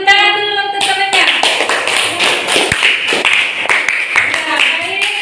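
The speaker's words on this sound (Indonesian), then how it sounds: "tepuk tangan dulu untuk temannya" Classmates in a classroom clap for a fellow student, a fairly loud burst of hand claps that runs the whole stretch after a short opening tone, with a few voices mixed in.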